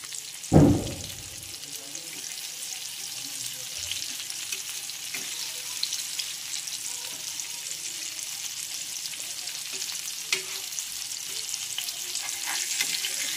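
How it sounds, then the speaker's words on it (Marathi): Fish pieces frying in a pan, a steady close hiss of oil running the whole time, opening with a loud thump as a piece is dropped or turned, then a few faint scrapes. "तर आता एक साइड आपण परतून घेणार आहोत।"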